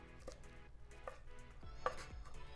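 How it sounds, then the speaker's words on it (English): A knife chops fresh mint on a cutting board for a winter fruit salad: a few sharp, close taps spaced unevenly, quiet and alone in a still kitchen. "I'm chopping it up maybe about a tablespoon to 2 tablespoons of mint"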